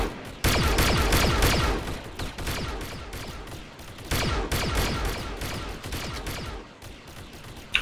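Sustained rapid gunfire from a team-based online shooter battle, loud and dense with bursts of overlapping shots that swell, ease off briefly and surge again, with no clear talk over it.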